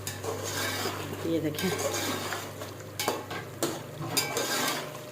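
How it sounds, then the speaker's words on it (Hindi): Tender meat browning in a pot, with a steady sizzle broken by spoon scrapes and clanks against the metal, some of them sharp. A voice speaks briefly over it. "बस अब थोड़ी देर से रखती हूँ और इसको भूनती हूँ।"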